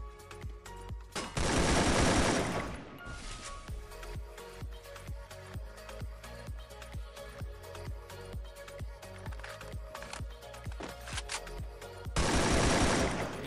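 Gunfire in the mobile battle-royale game Free Fire, with a fast burst near the start and another at the end, and single shots spaced steadily between them over a busy game soundscape.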